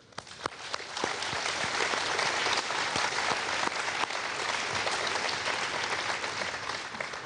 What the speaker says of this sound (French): je crois qu'on peut les applaudir après ces 40 succès d'affilée